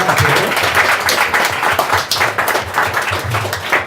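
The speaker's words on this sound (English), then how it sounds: "let's give a round of applause for Azzaria" Applause at the close of a question-and-answer event with Azzaria Douglas, a loud, continuous dense clapping from a group, uneven in intensity with some low rumble and faint voices mixed in.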